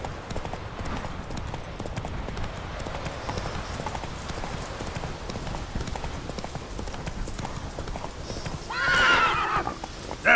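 A horse in The Witcher 3 video game gallops with a steady rapid clip-clop of hooves, followed by a loud neigh near the end.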